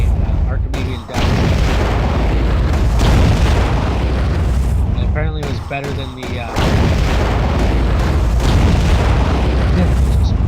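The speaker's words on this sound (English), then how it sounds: "those are some explosions." Underwater explosions in the video game AquaNox, heavy booming blasts and rumbling bursts recurring through the stretch, loud and close, with someone talking over them.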